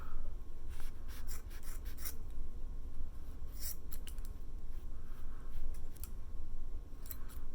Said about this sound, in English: we're going to go back through with our scissors and cut all of the loops that we made